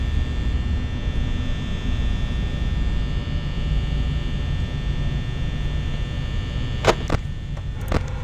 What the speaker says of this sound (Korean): 자꾸 이상한 소리가 나. 저 선풍기 좀 끄면 안 되냐고요?